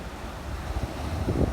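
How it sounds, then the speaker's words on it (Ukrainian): Sea waves roll onto a beach in a strong wind, a low rumbling surge that swells toward the end, with wind buffeting the microphone throughout. "Отак нас проважає море."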